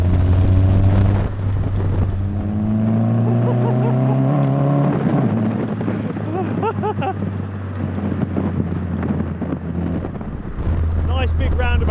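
A Mazda MX-5 Miata based RX-5 sports car driving, its engine a steady low drone with rising tones as it revs and shifts, plus wind noise, while a person talks over it from inside.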